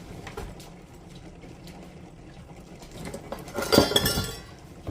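In a kitchen, a container is set down on a scale with a bright clink of glass or dishware near the end, after quiet handling noises.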